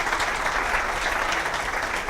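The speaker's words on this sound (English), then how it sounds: "you deserve a round of applause for the ingenuity on that" Sustained audience applause at a corporate event, a steady even patter of many hands clapping, moderately loud and continuous with no talk over it.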